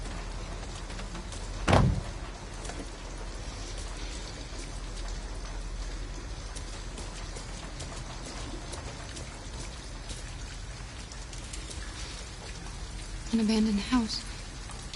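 Steady rain falls throughout a scene in the video game Detroit: Become Human, a constant dense patter near an abandoned house, with a thud early on and voices speaking briefly.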